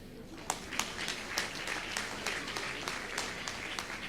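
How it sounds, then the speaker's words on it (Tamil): Audience clapping in a hall during a Women's Day speech, with distinct individual claps standing out over a steady wash of applause, fairly close and without speech. "முதல்ல இந்த அரங்கத்தில் இருக்கிற எல்லா ஆண்களுக்கும் ஒரு கைத்தட்டு"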